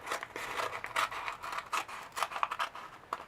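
Someone opening a mail package with scissors, producing a run of close, crisp snips and paper crinkling and tearing in quick irregular bursts, with no talking.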